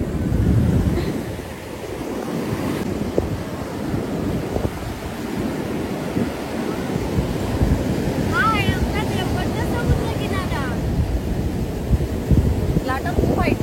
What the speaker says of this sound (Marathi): लाटा खूप हायटेड आहेत, त्यामुळे थोडं पाठी सुटतोय.